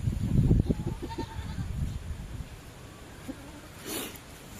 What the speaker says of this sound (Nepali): आइसक्यो हाम्रो बाख्राहरू